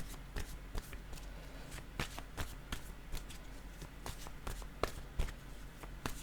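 Tarot cards handled and drawn from a deck: soft, rapid papery taps and shuffling rustles, close and quiet, with no voices.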